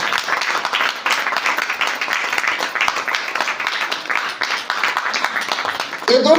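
Loud, sustained applause from a crowd welcoming two senior institute heads at a Nainital-Jim Corbett achievers celebration; dense clapping fills the whole stretch at an even level and swells slightly at the end.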